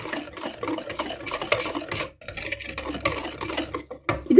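Ingredients being stirred and mixed in a bowl with vanilla, a steady scraping, clinking rhythm close by that runs throughout with brief pauses, and no talking.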